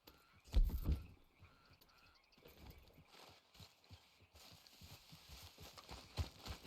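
Horse hooves from the video game Red Dead Redemption 2 clop along steadily at a walk, with a louder thud-heavy burst at the start, then an even, fairly faint rhythm under light ambient game sound.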